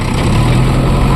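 A 2013 JCB backhoe loader's diesel engine runs steadily and loudly up close, a constant low throbbing drone with no pauses.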